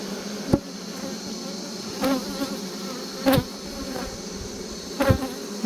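Honey bees buzz around an open beehive during an inspection, a steady close hum with several individual bees zipping loudly past at intervals.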